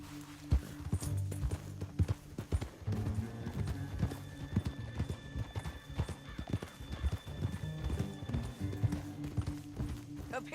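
Horse hooves pound in a quick, continuous clip-clop gallop in Red Dead Redemption 2, with a neigh along the way; heavy and close, with faint background sound underneath.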